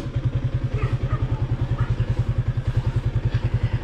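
Motorcycle engine idling nearby outdoors in hot dry weather, a fast even putter of loud regular pulses with faint rattling, no talk over it.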